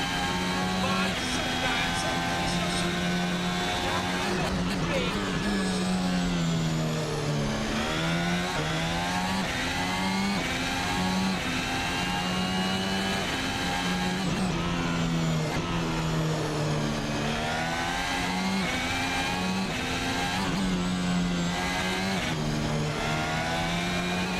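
Formula 1 cars running on track during Austrian Grand Prix practice, engine whine rising and falling steadily through the clip while a commentator talks over it almost continuously.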